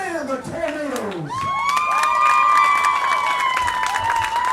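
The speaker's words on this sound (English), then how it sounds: "I want you to give me the loudest, rowdiest cheer you can muster" A crowd cheers, whoops and shouts for the Beaver Dam Tornadoes softball team at a state Legion softball opening ceremony, swelling after a brief opening into loud, sustained, high-pitched cheering that holds to the end.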